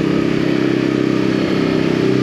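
A 2023 Voge 525 ACX motorcycle riding a mountain road, its engine droning loud and steady at constant speed with wind rush, no voices.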